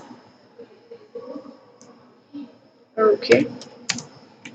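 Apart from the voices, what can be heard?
typing a command on a computer keyboard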